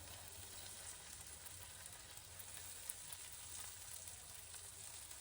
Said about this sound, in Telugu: మీడియం ఫ్లేమ్లో పెట్టుకొని మనం ఫ్రై చేసేసుకుందాం.